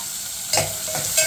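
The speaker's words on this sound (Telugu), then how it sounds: "బాగా వేగినాక ఇలా ఉల్లిపాయలు బాగా ఎర్రగా వేగాలండి" Sliced onions frying in a pan for vankaya pulusu, a soft continuous sizzle with a couple of brief stirring scrapes rising above it.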